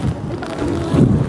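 Gusty wind buffets the microphone in low, rumbling bursts on a snowy mountain at Biwako Valley near Osaka, Japan, strongest near the end of the short stretch.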